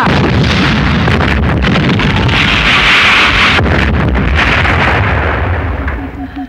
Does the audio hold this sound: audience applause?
no